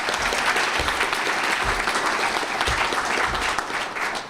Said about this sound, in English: how about a round of applause, another round of applause for Governor Rauner